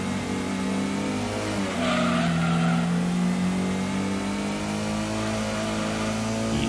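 A car engine in Gran Turismo on PlayStation, racing at Autumn Ring, holds a loud steady high drone pinned against the rev limiter, a brief dip near two seconds before it surges back and keeps buzzing without talk.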